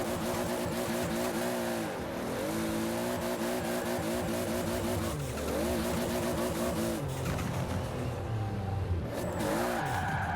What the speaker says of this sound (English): Pretty sure that's a clutch kick, like that.